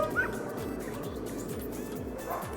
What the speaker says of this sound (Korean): 일단 짖고 보는 개부터